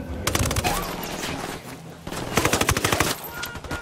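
Automatic gunfire in Tom Clancy's Ghost Recon Wildlands, with loud rapid bursts and sharp repeated shots in two main volleys amid game noise and a faint voice.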